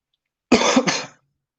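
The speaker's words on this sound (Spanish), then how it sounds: "necesitaba toser, perdón" A single short, harsh cough, close and loud, in an otherwise silent pause during an interview conversation.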